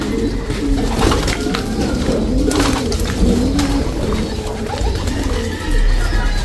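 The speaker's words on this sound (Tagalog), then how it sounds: "Nakita natin yung nanay nito, ice pigeon." Ice pigeons cooing in a Filipino pigeon loft, a steady run of soft, throaty coos repeating over several seconds amid rustling and faint background noise.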